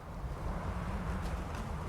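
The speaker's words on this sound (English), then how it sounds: "It's very windy yet again." A steady, broad rush of wind from Skyrim blows without letup, filling the short stretch with a dense, even roar and no voices.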